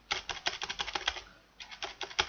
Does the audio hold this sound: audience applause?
no